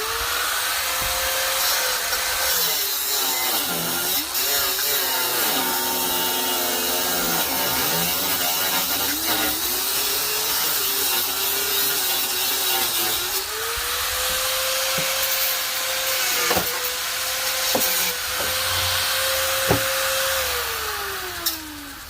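A power tool cuts at a bolt on a Jeep Grand Cherokee WJ, producing a loud continuous whine whose pitch dips and rises as the load changes, with a few sharp clicks and no talk.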